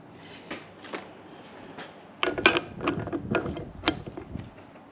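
Metal transmission adaptor sleeve sliding onto a one-way clutch while joining a 5-speed automatic to a transfer case, giving near, dense ratcheting and clicking that starts faintly and then grows louder in irregular bursts.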